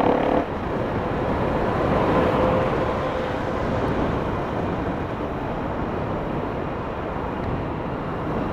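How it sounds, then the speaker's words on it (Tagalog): Strong wind roars across the microphone in a steady, heavy rush that barely lets up, with a low rumble underneath and no talking, on a motorcycle ride along NLEX. "Lakas ng hangin dito."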